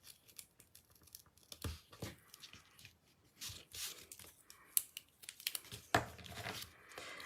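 Double-sided tape being handled for card making, soft close crinkling, peeling and tearing sounds in quiet irregular bursts, with a few sharp clicks.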